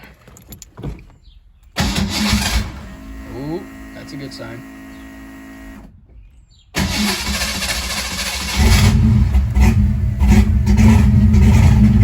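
A car engine cranks and catches, then settles into a steady, loud idle close by; a person speaks briefly during the start.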